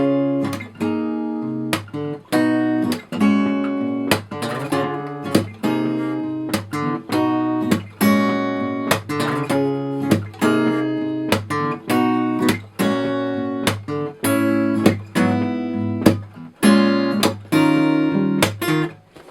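A guitar strums chords in a steady rhythm, each strum ringing out briefly before the next, with no voices.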